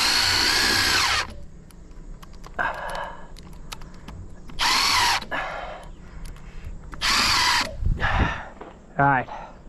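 Power drill driving screws into wooden forms for concrete pool steps during a DIY inground swimming pool build, three loud bursts of whirring separated by pauses and brief quieter clatter.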